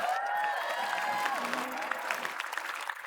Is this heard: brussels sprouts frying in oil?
no